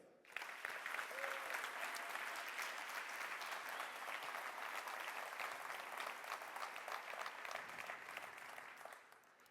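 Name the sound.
audience applause for the accelerator class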